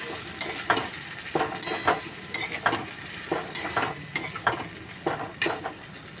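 Rhythmic scraping of a spatula stirring spice paste frying with onions in a pan, repeated strokes over a soft sizzle, close and clear.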